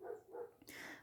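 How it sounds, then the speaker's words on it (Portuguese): Neighbourhood dogs bark twice in quick succession, then let out a higher yip or whine, moderately near and fairly faint, with no talking. "Os cachorros da minha vizinhança aqui estão bem doidos, desculpa o barulho, pessoal."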